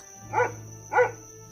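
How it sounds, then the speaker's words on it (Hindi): A dog gives two sharp barks about half a second apart, close and clear, over a faint steady hum. "मोती भी भौंकने लगा।"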